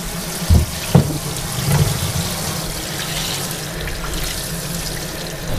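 Running water splashes steadily while a work boot is scrubbed with soap, with a few louder knocks and scrubbing bursts early on, then continuous flow without talk.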